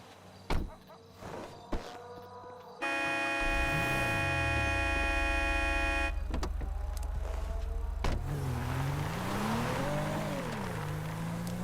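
Car in Grand Theft Auto V starting up and driving, a steady engine drone with rising and falling revs after a few knocks and door sounds, game music layered in and no speech.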